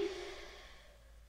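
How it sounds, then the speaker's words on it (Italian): A single deep exhale during a cool-down stretch in a toning workout, a soft, breathy sigh that fades out over about a second, faint and close. "Faccio dei bei respiri."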